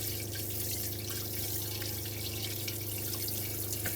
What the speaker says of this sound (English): we're going to go ahead and spray until we get nice and clean water coming through the sprayer hose also.